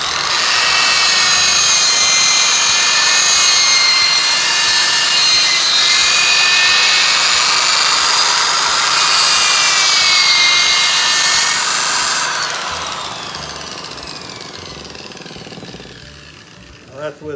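Power sander running on 80 grit sandpaper, a loud continuous whirring grind that holds steady for about twelve seconds, then winds down and fades out.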